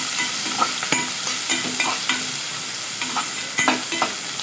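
Long-sliced onion frying in a pan over low heat for egg biryani, a steady close sizzle with occasional scraping stirs and light taps of the spoon, no voices.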